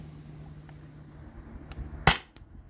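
A Byrpro Kinetics Sabre 68 paintball marker running on a 12 gram CO2 cartridge fires one sharp, loud pop near the end, with a couple of fainter clicks around it against a quiet background.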